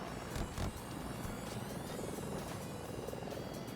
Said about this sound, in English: It's an Mi-240 Super Hind after all.